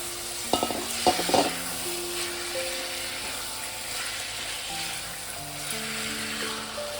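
Chicken pieces drop into a hot pan of warmed cinnamon, giving a few sharp clatters near the start and then a steady broad sizzle of frying that carries on at an even level with no talk over it.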